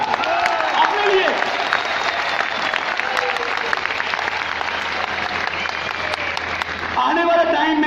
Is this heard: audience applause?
yes